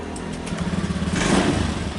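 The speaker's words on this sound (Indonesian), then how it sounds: "Ini seperti normal, kita hidupkan seperti normal pakai kontak." A 2019 Honda Beat ESF scooter engine started with the ignition key, running as a steady, close mid-pitched motor hum with a rising rev toward the end, no talk over it.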